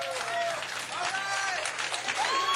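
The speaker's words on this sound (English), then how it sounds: "Just keep clapping." Crowd clapping and cheering at a hip-hop and poetry show at the South by Due East festival, a busy wash of hands with voices and shouts mixed in, moderately distant.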